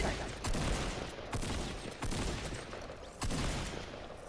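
Rifle gunfire in Fortnite: loud, dense rattling bursts of shots that keep going with sharp fresh volleys at regular intervals.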